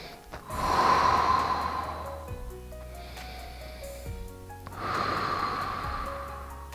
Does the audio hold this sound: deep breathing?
yes